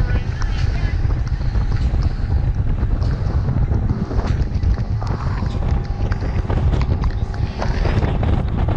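A fishing boat motoring across open blue water toward a sandbar, its engine droning loud and steady under strong wind buffeting the microphone throughout.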